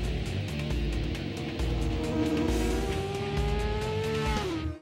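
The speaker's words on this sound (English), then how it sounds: "the bike is accelerating from 50 miles an hour to 130 miles an hour in just under a quarter mile" A motorcycle accelerating hard from 50 to 130 mph in under a quarter mile, its engine note climbing steadily in a loud, sustained roar that runs close and unbroken from start to finish.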